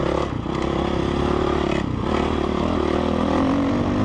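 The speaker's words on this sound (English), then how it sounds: "I feel like this is a really loud bike" A 2004 Honda CRF450 dirt bike engine drones loudly and steadily up close, with rattling and clattering from the bike layered over the motor.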